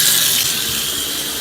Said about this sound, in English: Okay, we got the water on.